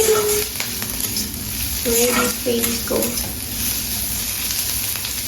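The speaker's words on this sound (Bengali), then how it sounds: "এবারে ভাজা ভাজা হয়ে গেলে রাইসটা দিয়ে মিক্স করে দিলি" Rice frying in a pan as it is mixed and stirred, a steady loud sizzle with scraping stir strokes and a faint hum in the background.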